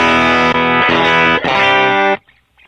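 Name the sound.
electric guitar through tone shaper pedal, top end boosted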